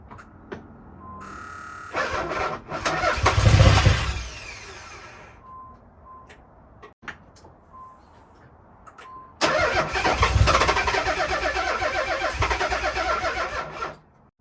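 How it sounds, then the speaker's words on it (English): A Nissan Z32 twin turbo engine cranks, catches and revs briefly before dying, then cranks again, with loud, close starter whirring and engine roar separated by a quiet gap. "You saw right there that it started for a quick second"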